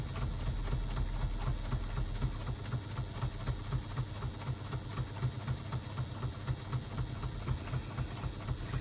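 A sewing machine stitches a fabric strap in one continuous run, its rapid even needle rhythm steady and close throughout, with no voices.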